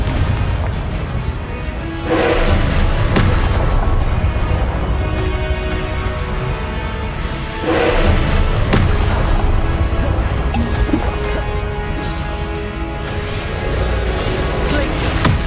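Explosive Confringo spell blasts in Hogwarts Legacy, loud booming crashes landing every few seconds over a dense, rumbling battle bed, with a voice calling out now and then.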